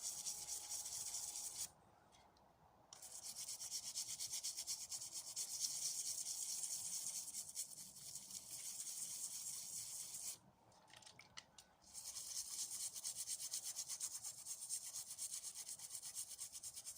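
Wood being sanded by hand, a steady close rasping rub in long continuous strokes, broken by two brief pauses.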